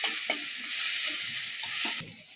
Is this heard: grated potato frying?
yes